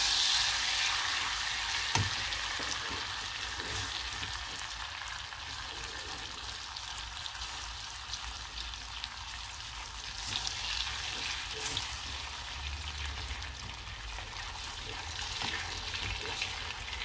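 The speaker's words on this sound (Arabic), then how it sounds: "دابا غنبداو نحركو باش ما كيلصقناش داك السكر" Butter and sugar bubble in a pan while being stirred, giving a steady frying sizzle with faint scraping, close and continuous with no talking.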